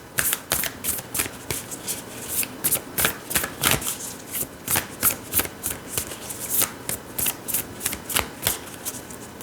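Tarot and angel card decks shuffled by hand, a rapid series of crisp riffling bursts and snaps repeating steadily and close, with no talking.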